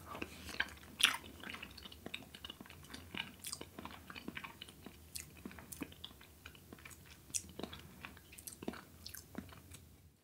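Someone eats soft milk pudding popped from a rubber skin, with quiet, close, irregular chewing and small wet clicks and mouth sounds.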